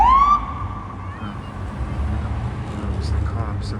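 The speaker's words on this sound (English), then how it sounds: "That's the ambulance. I was right." An ambulance siren passing on a city street gives one loud falling wail at the start, then fades into a steady low traffic rumble with faint voices nearby.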